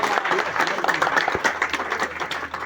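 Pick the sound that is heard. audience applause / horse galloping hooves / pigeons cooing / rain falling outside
audience applause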